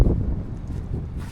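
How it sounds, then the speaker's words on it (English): Gusty wind in a maple woods buffets the microphone, a steady low rumble with rustling swells throughout. "It's another very windy day here in the Maple Woods."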